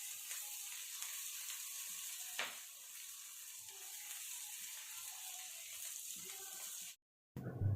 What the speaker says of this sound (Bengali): তো এবার আমি নেড়েচেড়ে ভেজে নিচ্ছি।